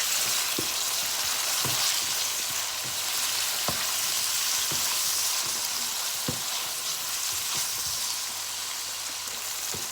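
Tomatoes fry in a curry pan for a crab curry, giving a steady close sizzle broken by scattered sharp pops and the scrape of stirring, with no talking.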